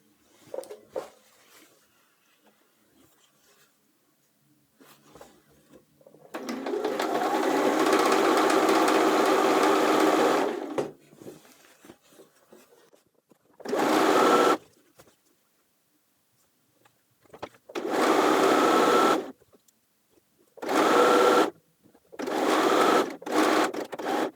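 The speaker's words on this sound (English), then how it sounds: "we've sewn the top edge of the pocket, again for the pocket facing and the side leg" A sewing machine runs in several bursts while stitching the top edge of a work-pants pocket with black thread, with one longer steady run and then short spurts separated by pauses.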